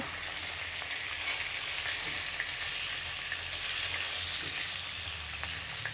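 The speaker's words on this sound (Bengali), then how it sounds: "বেশি ভাজবো না হালকা একটু নাড়াচাড়া দিয়ে আর এই যে একটু ফিরিয়ে দেব" Hilsa fish frying in oil in a wok, a steady dense sizzle with faint crackles, close and continuous throughout with no voices.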